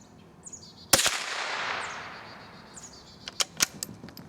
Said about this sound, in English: All right, last round for the bolt action.